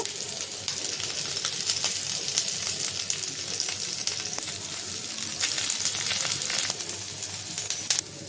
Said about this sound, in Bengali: মাছটা বাজা হয়েছে আমি একটু উল্টিয়ে দিব